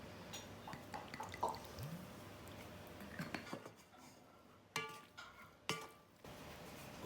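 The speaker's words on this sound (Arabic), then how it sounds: "بنحركها وبضيف عليهن زيت زيتون حتى تفضل كل حبة بحبتها ما يلزقوا على بعض" Pasta being stirred in a pot with olive oil added, a faint scattering of scrapes, clinks and soft wet drips with quiet pauses between them.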